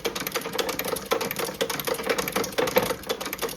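An antique cobbler's sewing machine from an old Doncaster cobblers shop stitches backwards with a steady rapid mechanical clatter, close and continuous throughout, with no talking.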